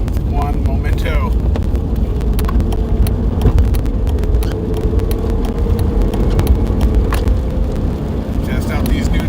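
A Hemi-engined car pulls onto the freeway, its engine and road roar filling the cabin in a steady, loud, broadband drone with rumbling low end and occasional wind buffeting.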